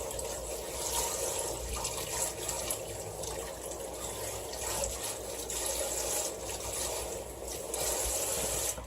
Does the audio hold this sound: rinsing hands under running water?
yes